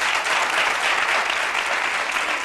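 Studio audience applause on a television talk show, a dense, even roar of many hands clapping continuously and loudly, without pause.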